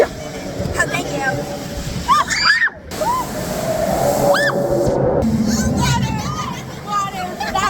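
Water splashes and sloshes over a raft on the Grizzly River Rapids ride, with people chattering and crying out over the steady rushing water, and loud bursts of splashing coming in waves.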